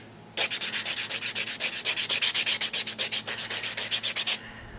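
Rhythmic back-and-forth sanding strokes buff a gel nail surface to remove deep scratches, about thirty quick, even rasps in a steady run lasting roughly four seconds, close and clear with no talking.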